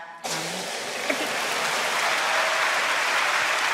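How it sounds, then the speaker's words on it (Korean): A church congregation breaks into applause right after a Bible recitation contest entry, starting abruptly and building into a loud, dense, even clapping that holds to the end. "박수 부탁드립니다"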